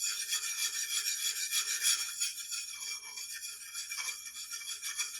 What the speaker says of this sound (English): acoustically, Arkansas stones have a very unique sound as well